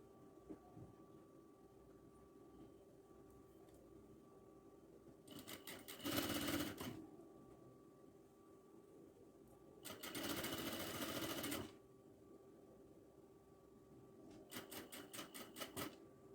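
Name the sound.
sewing machine stitching a cotton kurti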